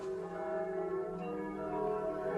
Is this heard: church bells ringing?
yes